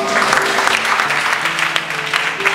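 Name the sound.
congregation applauding to acclaim the Lord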